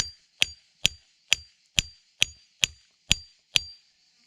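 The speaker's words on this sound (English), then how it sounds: "So if I put my cold chisel where it was before and just keep tapping away" Eight evenly spaced sharp metallic taps of a hammer on a cold chisel driven into wood to widen a split, each hit ringing briefly, close and fairly quiet, with silence between strikes.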